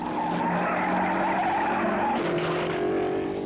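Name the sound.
1950s Formula 1 Maserati race car spinning off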